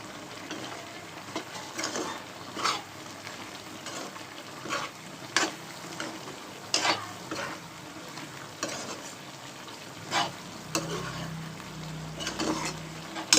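A spoon stirs chili powder into chicken curry sizzling in a pan, with repeated scraping strokes at an unhurried rhythm, close and clear, and a soft bubbling rising near the end.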